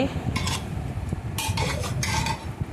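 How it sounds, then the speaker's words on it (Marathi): Mutton stirred in masala in a pan, a quiet low sizzle under a few bright bursts of a spoon scraping and clinking against the metal. "हे जे मटण आहे हे मसाल्यामध्ये चांगलं परतून घेऊया आपलं मटण"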